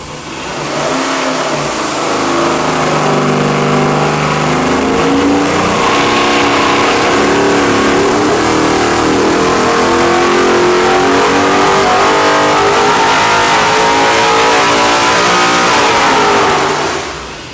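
A 700 hp, 441-cubic-inch, 13.25:1 compression LS V8 revs hard on a dyno, climbing through a long sustained pull, loud and close, before the note drops away at the end.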